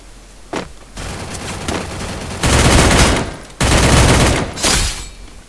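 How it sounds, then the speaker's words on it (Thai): Automatic gunfire from a P90 in the Free Fire mobile battle game, with a few single shots followed by long, loud sustained bursts of rapid fire, briefly cutting out and resuming, with no talking. "มันมีเสียงคนยิงกัน"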